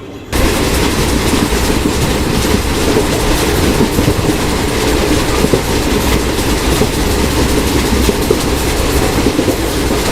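Chetak Express on the Chittorgarh to Ajmer stretch racing at high speed, a loud, steady rumble of wheels with dense rhythmic clatter filling every moment, no voices.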